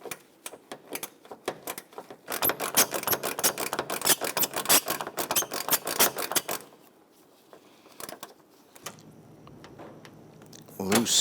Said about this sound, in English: you can use a gear wrench or you can use a 10mm socket and come around the outside here